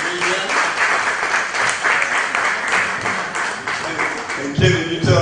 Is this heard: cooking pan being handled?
no